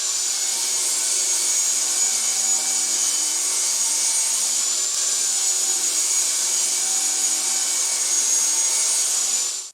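A saw cutting pallet-wood pieces to lid thickness for a wooden jewelry box, a steady, loud, unbroken whine and rush running nearly ten seconds before stopping abruptly.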